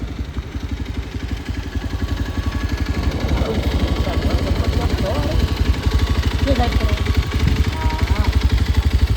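A motorcycle engine idles steadily and loudly close by, its rapid low throb continuous throughout, with a few voices faintly audible over it.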